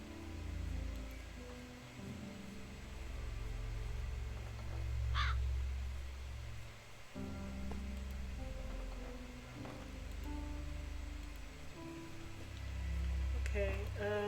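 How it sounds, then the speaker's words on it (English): Crows caw several times in a farming video game, the harsh calls standing out over a steady low background hum and soft game ambience, with occasional short clicks. "Hello, Mr. Crow."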